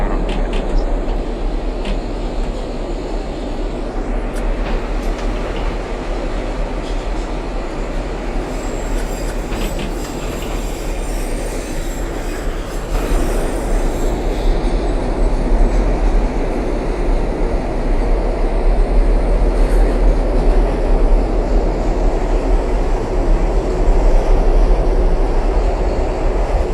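Simulated NYC Subway R142A train on the 4 line in OpenBVE, a continuous loud rumble of wheels on track with a steady low drone, a high squeal partway through and rising clatter toward the end.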